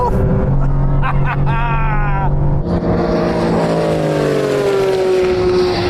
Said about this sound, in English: Porsche clearly has the edge with a surgical launch